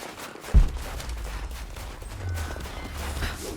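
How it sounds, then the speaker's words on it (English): An explosion in the video game Rise of the Tomb Raider lands as a single muffled boom near the start, trailing into a low rumble and steady ambient game noise. "Let's cause an explosion."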